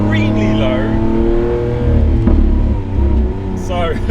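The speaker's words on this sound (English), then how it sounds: "just nice gentle cruise in a huge 770 horsepower V12." A Lamborghini Aventador SVJ Roadster with a 770-horsepower V12 cruises gently, its deep, steady engine drone running underneath someone talking, with a brief rise partway through.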